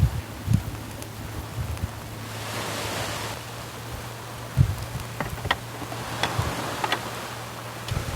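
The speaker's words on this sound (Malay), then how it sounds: "Tapi sekarang ni agak berangin kat tepi pantai ni" Steady wind buffeting along a beach by the sea, a broad rushing noise that swells in the middle, with faint surf and a few light knocks and clicks near the mic; no talking.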